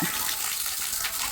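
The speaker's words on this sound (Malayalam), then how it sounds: "വെള്ളം വീഴുന്നുണ്ട്" Water falling and splashing steadily, a close, continuous bright rush lasting about a second with no speech over it.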